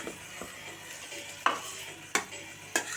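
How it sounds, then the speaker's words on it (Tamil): Chicken gravy frying in a pan and being stirred, with a low, quiet sizzle broken by several sharp scraping strokes of a spoon against the pan, close and without speech. "நல்லா ஃபுல்லாக நல்லா இந்த மாதிரி நல்லா கலக்கி விடுங்க."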